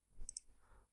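Two quick, crisp computer mouse clicks in quiet, made while working in Catia V5 CAD software, followed by a faint low rustle.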